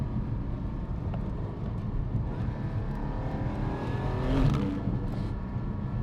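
Porsche 718 Cayman GT4 with PDK gearbox, its engine droning steadily and loud throughout, building to a brief surge of revs near the end, with no talking over it.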